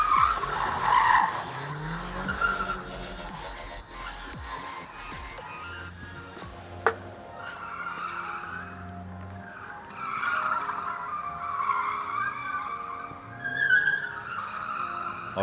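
Cars skid and squeal their tyres through an auto gymkhana round of the Asia Pacific Motorsport Championship in Sri Lanka. Long screeching slides rise and fall over steady engine drone across the whole stretch, with one sharp crack partway through.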